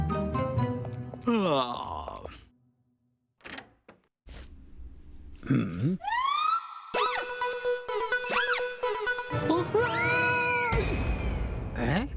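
Several cartoon cats meow repeatedly, some long and drawn-out wails, close and fairly loud, with short pauses between calls.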